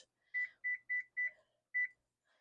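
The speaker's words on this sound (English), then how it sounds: "Okay, so my timer's going off again." A kitchen timer beeps five times in an even, quick rhythm, each beep short and high-pitched, fairly quiet, in an otherwise still room while raw milk heats on the stove for homemade yogurt.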